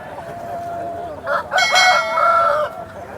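A rooster lets out one loud, close crow while hens cluck softly around it at the Nallapadu poultry market.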